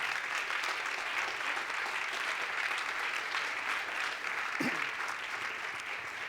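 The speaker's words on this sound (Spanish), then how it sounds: "Dale ese aplauso al Rey." A church congregation applauds together at a Spanish-language service, with steady, even clapping held at moderate loudness from start to finish and no voice over it.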